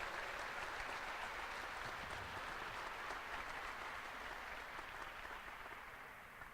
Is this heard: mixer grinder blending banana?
no